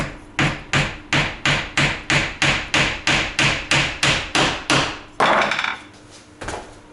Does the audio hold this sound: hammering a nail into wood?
yes